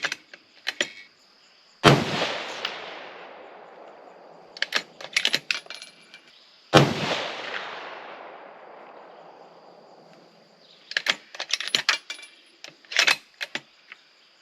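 A Savage 110 Desert Tactical rifle in 6.5 Creedmoor fires Hornady 147-grain rounds outdoors: two loud, sharp shots about five seconds apart, each with a long fading echo, separated by quick metallic clicks of bolt cycling.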